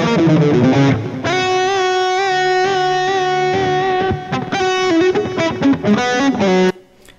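A distorted electric guitar lead tone run through the Blue Cat Audio Axiom amp plug-in, with reverb and delay, plays a sustained melodic phrase of held and bending notes, loud and alone for about seven seconds before fading out.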